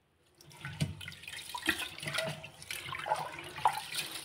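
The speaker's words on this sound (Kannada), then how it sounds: "ರೇಷನ್ ಅಕ್ಕಿ 2-3 ಸತಿ ಅಲ್ಲ 4 ಸತಿ ಆದರೂ ತೊಳಿಬೇಕು ಕ್ಲೀನಾಗಿ ನೋಡಿ" Ration rice being washed in water, cleaned over several rinses: soft, intermittent sloshing and splashing close by, fairly quiet, with no speech.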